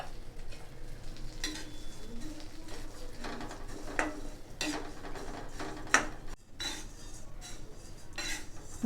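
Red poha roasting in a kadai for aval kesari, heard as a soft crackle and rustle under repeated metal scraping and clinks of a spoon against the pan, near and fairly quiet.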